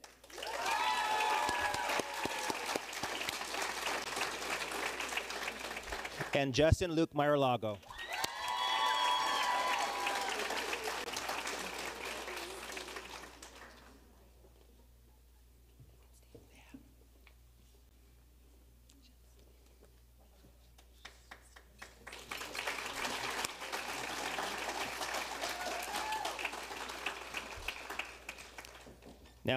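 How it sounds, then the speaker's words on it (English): Audience applause at a senior awards night for salutatorians, building after a name is called, dropping away to near silence midway, then rising again in a second round. A voice is heard near the start. "Please give a round of applause to Ethan Nguyen."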